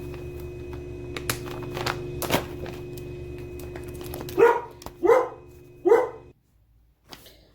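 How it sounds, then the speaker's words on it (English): A dog indoors gives three loud, sharp barks close by, spaced about a second apart, after a stretch of quiet room noise with a few knocks. "The dog's very barky because she needs to get out"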